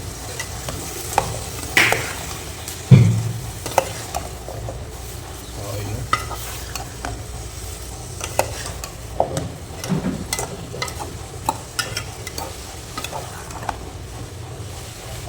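Potatoes and onions frying in oil in a pan are stirred, with a soft continuous sizzle and scattered scraping clicks of a utensil, a few sharper knocks standing out, close and with no voices.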